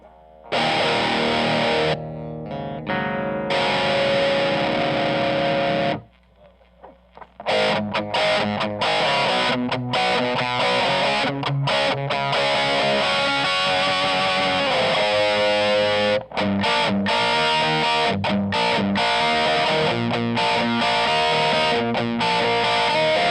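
Heavily distorted electric guitar through a Boss Metal Zone MT-2 pedal plays chords and riffs with a thick, buzzy, slightly nasal tone, pausing briefly before resuming strumming, loud and alone without voices.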